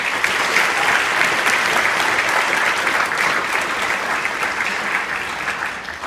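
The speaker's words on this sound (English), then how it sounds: "Let's have another round of applause for the" Steady, dense applause from an audience at an alumni hall of fame ceremony, sustained for several seconds at an even level with no one speaking over it.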